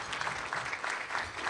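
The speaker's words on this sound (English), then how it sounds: "let's clap for the Chief of Staff" A luncheon audience claps in a brief, moderate round of applause, steady and fairly close, with no voices over it.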